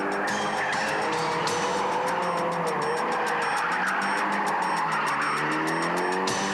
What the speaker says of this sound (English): the driver puts the pedal to the metal, causing the rear tires to spin fast enough to allow the car to drift smoothly through the turn